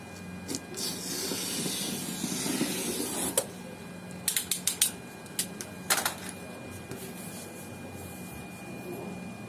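A foil cutter machine runs with a steady hiss and a low hum. A short cluster of sharp mechanical clicks comes through near the middle, and then the hiss carries on alone.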